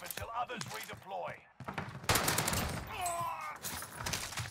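Bursts of gunfire from a Warzone battle royale match, with the Owen gun in play, mixed with game voice announcements and talk, loud and busy throughout.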